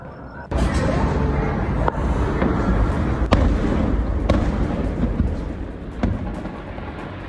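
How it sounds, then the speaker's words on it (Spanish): A series of sharp, booming blasts from a clandestine fireworks store at irregular intervals, each followed by rumbling echo, heard from a distance amid background noise. "como puede escuchar, no fue una sola, sino fueron varias detonaciones"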